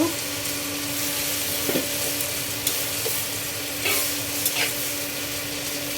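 Water spinach (kalmi shak) cooking with dried fish in a pan, a continuous sizzle under the occasional scrape and tap of a spatula stirring the greens.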